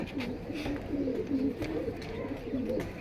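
A flock of pigeons at a seller's loft cooing in low, repeated throaty calls that overlap steadily at close range, with faint background noise.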